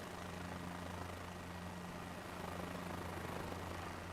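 A simulated helicopter in a flight simulator game drones with a steady rotor and engine hum, a constant low tonal buzz that holds evenly throughout without pauses.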